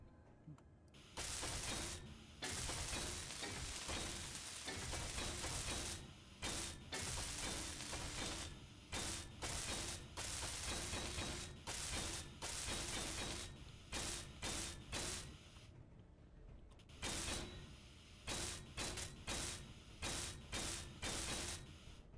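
Power welding tool working on a ship in Space Engineers survival, a loud buzzing, grinding mechanical drone in repeated long bursts separated by brief gaps.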